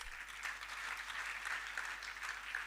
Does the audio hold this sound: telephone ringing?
no